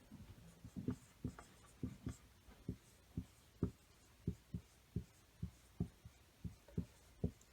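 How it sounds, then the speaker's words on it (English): Pen or marker strokes writing on a surface while a motor neuron diagram is drawn, a run of short, evenly spaced scratchy taps with a steady rhythm, close up and fairly quiet, with no talking. "let me write that"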